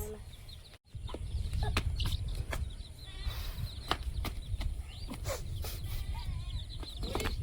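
Farm chickens cluck repeatedly nearby, with scattered sharp calls and rustling over a steady background.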